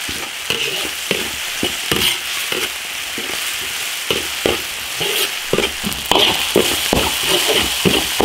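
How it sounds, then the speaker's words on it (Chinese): Sichuan peppercorns, dried chilies and spices sizzling in a big iron wok over a wood-fired stove, with a steady frying hiss and repeated scraping stir strokes of the spatula. "炒香下花椒、干辣椒、香料。"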